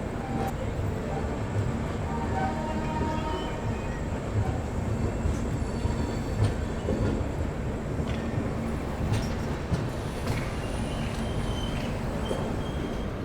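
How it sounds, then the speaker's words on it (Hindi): A passenger express train pulls out of Ludhiana Junction, giving a steady broadband rumble of rolling wagons with faint squeals and clanks throughout, fairly continuous and moderately distant. "निकल गई है ट्रेन अपनी लुधियाना जंक्शन से"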